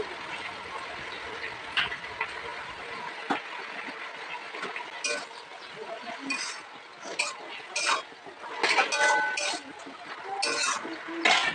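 Salted lafa greens stirred in a pan with a spatula: a close, busy run of metallic scrapes and clinks over a soft frying hiss, getting denser and louder toward the end, with no talking.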